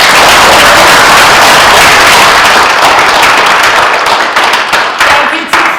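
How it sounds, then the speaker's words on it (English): Audience applause at an evening talk on Alfred Hitchcock, a dense, steady wash of many hands clapping that stays loud throughout and thins slightly toward the end. "Everyone give a round of applause"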